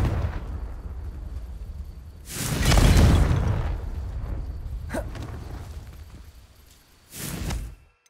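Confringo spell explosions in the video game Hogwarts Legacy, a loud broad boom swelling and rumbling for about two seconds, a brief crack, then a second shorter blast before the sound cuts off.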